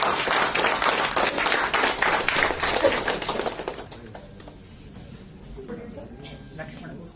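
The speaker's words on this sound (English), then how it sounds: "Can we give them a round of applause?" An audience claps in a loud, dense round of applause for a team demonstration, fading out after about four seconds into quieter room sound with scattered claps.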